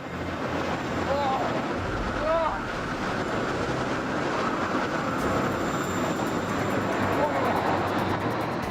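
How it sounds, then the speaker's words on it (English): Extremely strong wind of about 105 mph at the Needles on the Isle of Wight roars loud and constant, buffeting close by in a dense, unbroken rush with a few whistling gusts. "This is the kind of wind that will knock you right off your feet."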